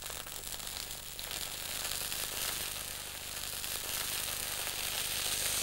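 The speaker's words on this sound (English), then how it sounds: "It sizzles a bit when it goes in" Balsamic vinegar added to a hot oiled pan with asparagus sizzles softly, a faint, steady hiss that builds slightly as it continues.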